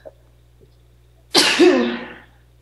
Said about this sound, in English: Yeah, sneeze.